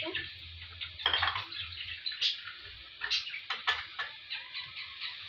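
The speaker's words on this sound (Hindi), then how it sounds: "टोमेटो स्लाइस डाल देंगे अब इसको ज़रा सा हम सौते करेंगे" Tomato slices sautéing in a pan: a soft background sizzle is broken by clinks and scrapes of a utensil against metal, in irregular bursts at close range.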